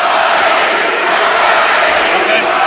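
Dense wrestling arena crowd at a Prestige Wrestling Combat Clash 2025 show, a loud, steady wash of cheering and shouting with no pauses, filling the whole stretch.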